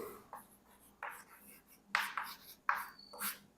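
Writing during a physics lesson comes through as a handful of scratchy strokes in short bursts with pauses between, moderately close and fairly quiet, with no speech.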